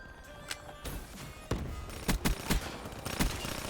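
First-person shooter gunfire cracks out in a series of quick, sharp shots, some in close pairs and bursts, at moderate volume over a faint game background.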